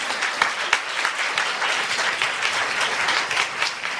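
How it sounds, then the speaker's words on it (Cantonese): Audience applause welcoming first-time newcomers at a business gathering, dense steady clapping from a roomful of people, close and sustained with a few sharper claps standing out. "我俾啲掌聲歡迎咁多新朋友先"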